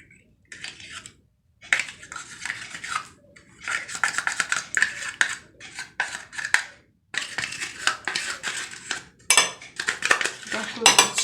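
Melted chocolate mixed with chocolate pudding is stirred in a bowl, making repeated clinking and scraping of a utensil against the bowl in uneven bursts with short pauses, close and fairly loud.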